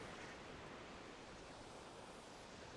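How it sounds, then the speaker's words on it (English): Wind blowing outdoors near the sea by rocks, a steady broadband rush like surf with a constant roar throughout and no speech. "Hope this wind ain't too bad."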